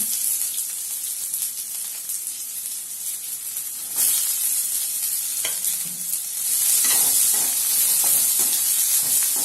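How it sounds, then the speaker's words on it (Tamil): Steady crackling and sizzling of mustard seeds spluttering in hot oil, with brief louder bursts of popping, close up and continuous. "கடுகு பொரிஞ்சிட்டு இருக்கு"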